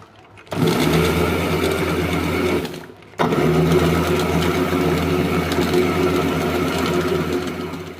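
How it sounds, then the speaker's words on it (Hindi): An electric grinder whirs loudly as it grinds spices and green chillies, a steady high-pitched motor roar that stops briefly for a second before starting again and running on alone. "ये सब मसाले इसमें डाल देंगे और फिर पीस लेंगे।"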